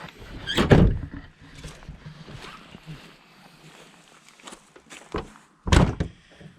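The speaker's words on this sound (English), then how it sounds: "Let me find the hood release." A stiff hood on a 2010 Dodge Caravan is opened with a few solid thunks and clunks. A loud knock comes early, fainter rattles and handling noises follow, and a second strong thunk lands near the end. No one speaks.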